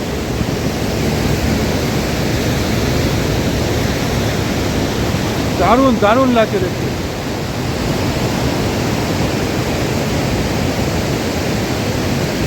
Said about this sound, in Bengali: পাহাড়ি নদীর আওয়াজটা শুনতে পাচ্ছেন